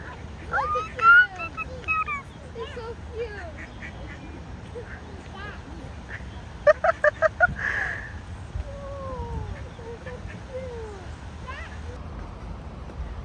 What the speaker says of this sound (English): And even another mother came with even more duckies.